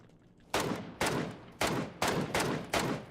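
Gunfire in the battle-royale shooter PUBG: six loud, sharp shots at roughly half-second intervals after a brief quiet start, each with a short trailing decay.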